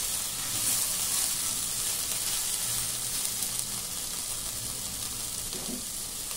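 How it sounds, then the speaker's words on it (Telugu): Sliced onions fry in a pan for a broad bean curry, giving a steady, soft sizzle and hiss at close range that runs throughout with little change. "మనకు ఉల్లిపాయలు అన్నీ వేగిపోయినాయండి."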